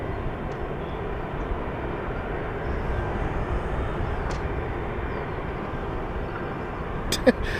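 An airplane takes off from runway 27 at London City Airport, producing a steady, broad engine roar that holds at an even level throughout, with a brief sharp tick near the end.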